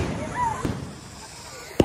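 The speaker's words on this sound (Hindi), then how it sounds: "पहली बार ये बम हो रहा है" Firecrackers go off outdoors during a Mahalaya festival celebration in West Bengal. A couple of short, sharp pops rise above background voices, with the last bang louder and close by.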